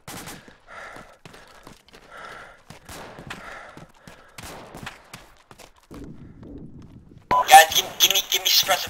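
Arma 2 gunfire crackles in brief bursts beneath a voice on radio chatter, ending with a louder, denser volley of shots and wind noise.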